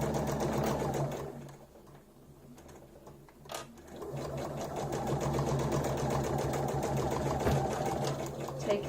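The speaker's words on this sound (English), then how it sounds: "So I'll just pop this through the sewing machine." A sewing machine runs almost continuously, stitching together sections of a fractured skull patterned fabric panel, with a steady close mechanical whir that pauses briefly midway and then resumes.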